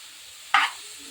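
Grated carrot halwa stirred and frying in ghee in a pan over a low flame; a single short scraping sizzle bursts out midway, then fades back into a quiet background.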